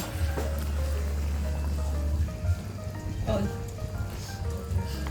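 Steady rain patters on a surface outdoors during laing cooking, a continuous dense wash beneath nearby talk and clinks of kitchen activity.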